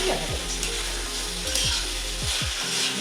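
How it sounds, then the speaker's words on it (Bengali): Mushrooms and potatoes sizzling in hot oil in a pan while a utensil stirs them, a steady close crackle with repeated scraping strokes roughly every half second to second, no talking. "আমি ছেড়ে দিলাম মাশরুম আলু দুটোই একবারে আমি ছেড়ে দিলাম এটাকে একটু নাড়াচাড়া করে দিচ্ছি"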